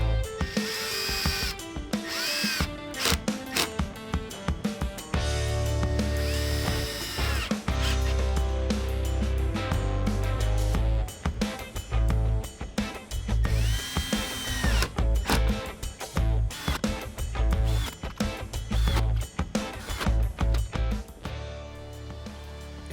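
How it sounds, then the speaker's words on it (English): A power drill drives screws into plywood in repeated bursts, starting and stopping with short pauses, loud and close, with mechanical clicks between runs. "I don't want this stuff to crack as I'm drilling it in."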